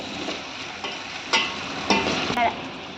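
Carrots and beans fry and are stirred in a pan while making vegetarian fried rice: a soft, steady sizzle with a few scraping stirs and brief clatters, fairly quiet and close, with no talking.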